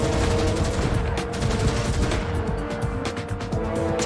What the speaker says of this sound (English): Press the R1 button to fire your forward weapons.